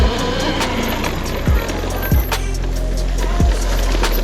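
72v electric dirt bike on a UK trail, a steady loud whine and rumble of motor and wind noise with tyre crunch and a few heavier thumps over bumps, no talk.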